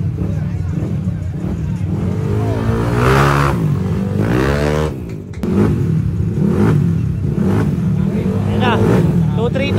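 A Yamaha NMAX and an Aerox with 232cc engines and Super X ECUs rev hard as they race, the buzzing engine note rising and falling and then swelling again near the end, with people talking over it.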